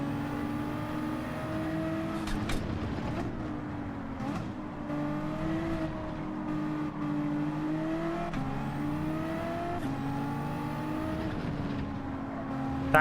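Race cars roar through a Gran Turismo 7 World Series GT1 race, including an AMG, with engine notes rising and dropping through gear changes in a steady, continuous mechanical drone.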